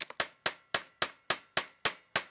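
Steady hammer blows driving a nail into wood, about eight sharp strikes in even rhythm, close and crisp with short ringing decays.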